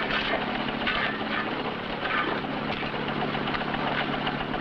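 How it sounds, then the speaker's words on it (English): An engine running at a well rescue scene in a 1951 film, a steady droning rumble with constant mechanical vibration, fairly loud and unbroken throughout. "Cut that engine."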